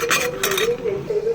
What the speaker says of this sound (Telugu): ఇలా ఉప్పు, కారం, ధనియాల పొడి, గరం మసాలా వేసుకొని బాగా కలుపుకోవాలి.